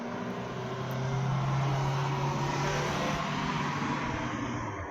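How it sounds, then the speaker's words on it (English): Cars pass by outdoors as a continuous broad road hum that swells slightly and holds steady, with no talking over it. "I'm sorry if you hear like cars going passing by"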